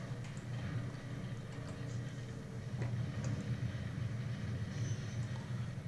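Steady low rumble of a train running in the Factorio factory-building game, a continuous mechanical drone with faint higher clicks and hum, no voices.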